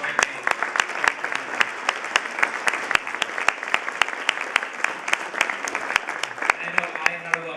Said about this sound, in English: So I just want to give you another round of applause.